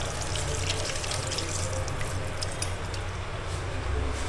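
Tap water runs steadily as hands are washed at a restaurant washbasin in Puri, a continuous close splashing stream with no talk.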